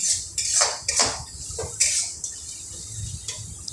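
Ghugni being stirred in a cooking pan, a utensil scraping and clinking against the metal in several quick strokes, close and fairly loud with brief pauses between, no talking.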